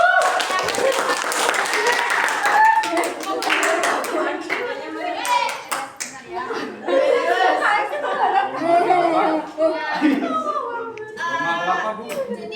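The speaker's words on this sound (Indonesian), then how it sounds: "tepuk tangan buat kamu" Students clap for a classmate during a classroom lesson. Lively, uneven clapping runs throughout, mixed with children's chatter, laughter and talking.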